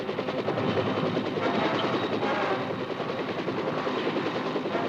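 Huey helicopter gunships fly in support of ground troops, a steady loud rotor chop and engine drone filling the whole stretch with no talking.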